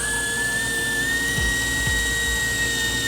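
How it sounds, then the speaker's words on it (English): A surgical drill's steady high-pitched whine runs continuously as it bores through bone in a dog's spine, with a couple of brief low bumps partway through; no voices. "we're drilling between very big blood vessels that you can't see because they're encased in bone"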